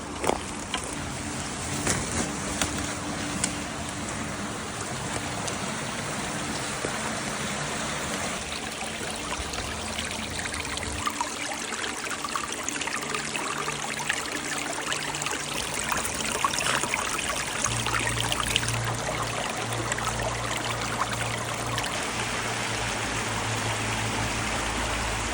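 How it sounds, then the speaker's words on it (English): A small spring-fed tributary stream flowing into the River Churn: a steady, broad rushing and trickling of water, continuous and close throughout, with no one speaking. "Another spring, another tributary into River Churn."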